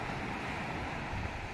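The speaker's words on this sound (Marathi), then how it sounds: "आणि उतरल्यावर हा समुद्र आहे इकडे" Sea waves wash steadily onto the shore near a village beach and jetty at Adgaon on the Konkan coast, a continuous broad roar of surf mixed with wind buffeting the microphone, with no voices.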